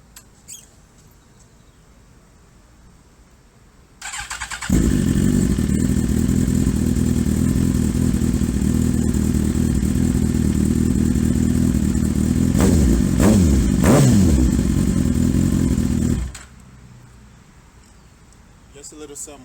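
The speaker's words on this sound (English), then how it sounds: "let me start the bike real fast so you guys can hear what this sounds like" A 2007 Suzuki GSX-R 1000 motorcycle starts after a few seconds of quiet and runs at a loud, steady idle close by. Brief revs come near the end before it shuts off. Faint talk surrounds the engine.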